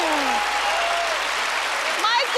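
Studio audience applause at a Penn and Teller magic show, thick and continuous, with a voice briefly cutting in near the end.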